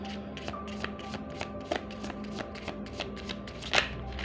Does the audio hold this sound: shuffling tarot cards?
yes